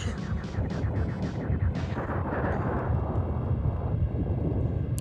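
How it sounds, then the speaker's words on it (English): Explosion from the SNES game Star Fox, a loud broad rumbling blast with sharp crackling bursts early on, sustained and booming throughout the whole clip. "Let's zoom into the explosion"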